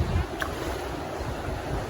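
Heavy spring waterfall in Yosemite National Park, a dense continuous roar of rushing water, loud and broadband with steady rumbling low end and no pauses.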